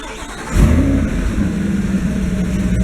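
A warm engine fitted with exhaust silencer noodles starts up, then settles into a steady, low, fairly quiet idle that runs on alone.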